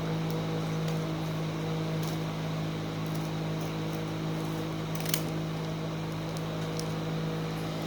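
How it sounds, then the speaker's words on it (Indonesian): A cutter knife slowly slitting open the package of a Logitech M720 Triathlon Bluetooth mouse, faint scratchy scraping and a few small ticks over a steady low electrical hum, close by and without speech. "Saya pakai cutter. Ini saya buka pelan-pelan dulu."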